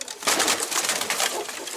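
Pigeons in a coop coo and call close by, a steady run of soft throaty sounds with no pauses and no voices.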